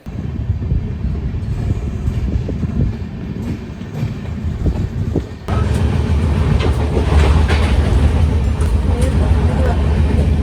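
Passenger train running on the rails toward New Jalpaiguri, heard from inside a carriage: a continuous rumbling roll with wheel clatter that steps up suddenly and grows louder halfway through.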